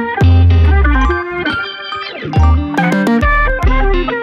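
Gospel organ sustaining rich chords alongside an electric keyboard adding busy melodic fills, in a K-pop R&B and soul session; loud, continuous instrumental passage with pulsing bass notes and no voices.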